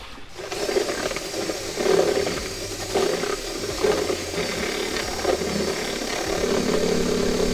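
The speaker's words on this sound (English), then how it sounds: "And give this a good stir." About 3 ounces of Feature lawn product being stirred into a mixture, a steady swirling, scraping churn that runs continuously at close range with no talking.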